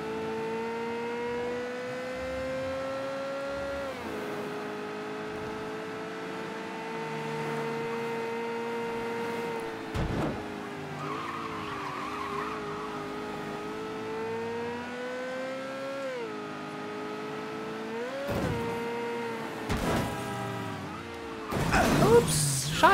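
A car in the Mafia 3 video game drives and revs steadily for the whole stretch, its engine tone rising and dropping through gear changes, with brief thumps and a louder burst of noise near the end.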